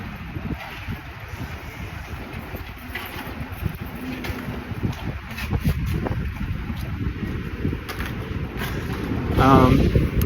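Gusty wind buffets the microphone on a sunny, clear day in Takadanobaba, Tokyo, in a continuous low rumble that swells louder toward the end, with faint voices underneath.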